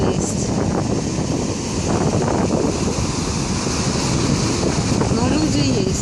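Stormy sea surf rolls and crashes onto a beach at Lazarevskoye while strong wind buffets the microphone, a loud continuous roar with faint voices in the background.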